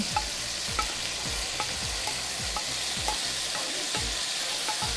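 Leeks sautéing in oil in a pan, a steady close sizzle with a soft scraping stir repeating about every half second, no voices.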